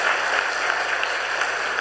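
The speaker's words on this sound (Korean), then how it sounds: "우리 방경석 집사 위해서 박수 한번 칩시다" Church congregation clapping during a Sunday worship service, a dense, even patter of many hands holding steady without a break.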